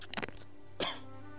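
Two short, sharp coughs from a person close to the microphone, a quick pair followed by a single cough, standing alone over a quiet background.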